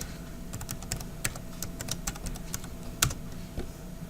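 Fingers type a username and password on a computer keyboard, an irregular run of light, close key clicks with a few harder strokes, alone and at moderate volume.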